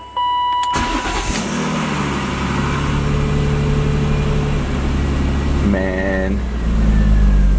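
BMW E36 M3 drift car engine cranks, catches and settles into a steady idle with a brief rev near the end, loud and close, while someone speaks briefly over it.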